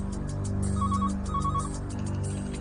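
Phone ringing in a home, two short electronic ringtone bursts in a row, clear and moderately loud over a low, steady background hum.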